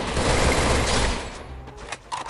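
Dense gunfire bursts from a Free Fire mobile battle royale match, loud and continuous for over a second, then thinning into scattered shots and short bursts.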